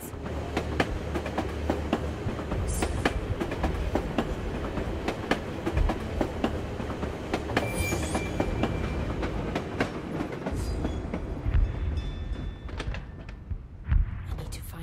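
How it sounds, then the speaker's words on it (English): Tram ride in the video game Assassin's Creed Chronicles: Russia, with a continuous loud rumble of a rail car and rhythmic clickety-clack of wheels over track joints, plus scattered clanks throughout. "This tram will take me to the edge of the Volga."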